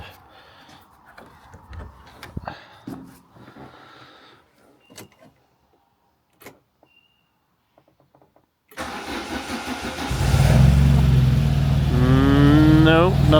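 A Peugeot 106 XSi sitting unused for 13 years is cranked after quiet shuffling, then catches and settles into a loud, close, rough-running engine roar with a rising whine.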